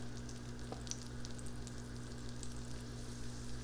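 Food sizzles and fries in a hot cast iron pan, a soft continuous crackle with scattered pops over a low steady hum, fairly quiet and with no talking.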